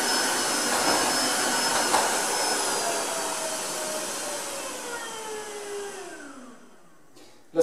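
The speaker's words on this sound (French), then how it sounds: "L'aspiration continue encore 2-3 secondes pour bien aspirer l'eau qui reste encore au sol" A Tineco Floor One S3 cordless wet vacuum cleaner suctions up water from a floor with a loud, steady motor roar, its whine gradually dropping in pitch as it winds down, ending with a sharp click.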